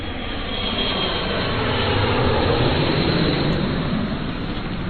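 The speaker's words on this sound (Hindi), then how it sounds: "भीषण गोलाबारी की आवाज में उस विमान का इंजन कब स्टार्ट हो गया" An aircraft engine starting up and running in a Hindi audio comic, a broad, loud roaring rush that swells slightly and holds steady throughout, with no voices over it.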